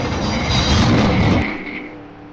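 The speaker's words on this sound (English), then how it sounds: "And that pace car is loud." A pace car in a racing video game roars past, its loud engine swelling to a peak and then fading away quickly as it passes.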